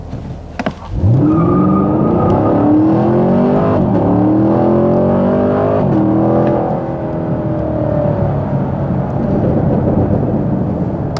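A 2021 Chevy Camaro with the LT1 V8 and 455 horsepower launches hard from a standstill, its engine note rising through several loud full-throttle gear pulls with brief dips at each shift, close and continuous throughout.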